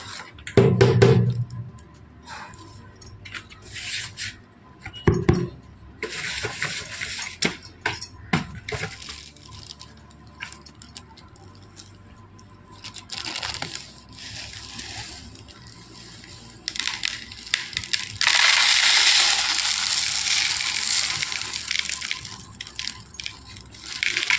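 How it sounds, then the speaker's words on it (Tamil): Mixed grains, cashews and chana dal are washed by hand in water for homemade baby cereal, with close splashing, swishing and knocks against a bowl, getting louder toward the end. "இதெல்லாம் நல்லா வாஷ் பண்ணிவிட்டு ஊற வைக்கணும்"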